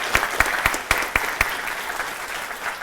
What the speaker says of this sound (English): we give you all a round of applause